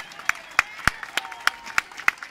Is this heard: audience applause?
yes